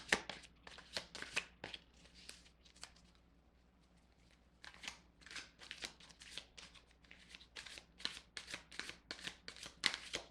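Tarot cards being shuffled in repeated soft riffling bursts, with a brief lull partway through before the shuffling picks up again, quiet and close with no talk.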